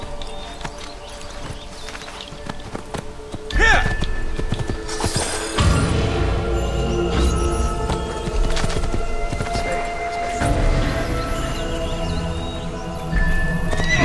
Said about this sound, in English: Oh, wait, here's a horse.